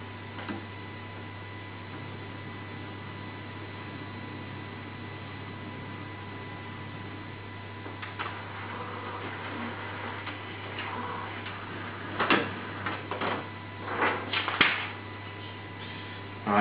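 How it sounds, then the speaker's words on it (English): A Canon Pixma Pro 9000 printer powering on, a steady electrical hum at first, then the print carriage whirring and clicking in short bursts of mechanical movement close by, no speech. "switch the printer on and open the lid. This will cause the carriage block to move into the middle position"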